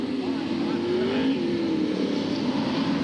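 A saloon racing car at a 1994 Skegness National Saloons race sends out a steady, loud engine drone with a rising pitch as it accelerates, holding constant throughout.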